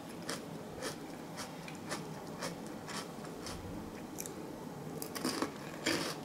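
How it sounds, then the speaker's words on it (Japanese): Crunchy ice cream cone being bitten and chewed, a roasted sweet potato monaka-style ice cream treat from a convenience store, with repeated crisp crunching bites spaced through the clip, close and fairly quiet, no talking. "コーンもサクサクで美味しかった"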